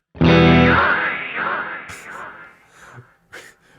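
An Alexander Superball dynamic delay pedal is played through with guitar: a loud, distorted chord rings out, then decays while echoing repeats smear and fade, followed by a couple of brief, sharp note attacks.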